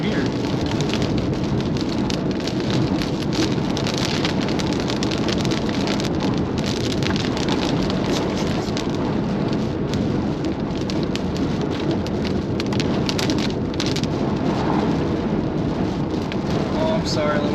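Heavy rain falls steadily during a Colorado thunderstorm, a loud, dense, unbroken hiss that drums on nearby surfaces, with occasional faint voices beneath it.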